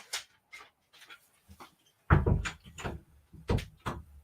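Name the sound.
dog panting and moving around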